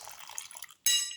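Water poured into a basin of chickpea flour with cumin seeds and sugar: a soft liquid trickle, then a brighter, louder splash-like pour after a brief pause, close and alone.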